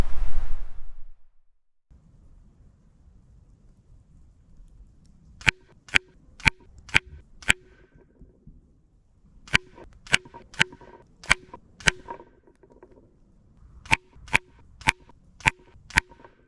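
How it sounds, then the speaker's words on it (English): An FX Impact M4 air rifle firing 16 grain SAN slugs at about 972 feet per second, three strings of five sharp, crisp shots spaced evenly about half a second apart, each string separated by a few seconds of quiet handling noise. "I'm using the 16 grainers from SAN and shooting them at around 972 feet per second today"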